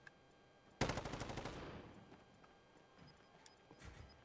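A rapid burst of automatic gunfire from the Call of Duty Warzone battle royale game sounds as a fast rattling volley lasting under a second, then tails off into quieter ambient game sounds and a couple of faint distant shots.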